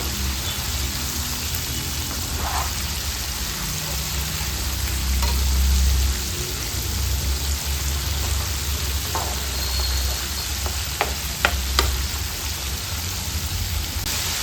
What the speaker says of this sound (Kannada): ನೀಟಾಗಿ ಮಿಕ್ಸ್ ಮಾಡ್ತಾ ಫ್ರೈ ಮಾಡ್ಕೊಳ್ಬೇಕು.